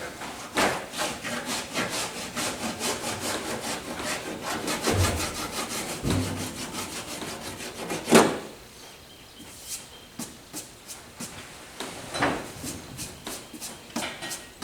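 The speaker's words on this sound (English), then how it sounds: "Let me give y'all a quick run with the cheese grater and just show you what I'm talking about." Cheese grater body file shaving partly set body filler on the quarter panels of a 1995 convertible, a steady rhythmic rasping of repeated strokes, close and fairly loud, with a few harder scrapes and no talk.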